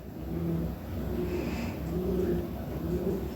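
Lahore pigeons cooing up close, a continuous series of low throaty coos rising and falling in waves over a steady background hum.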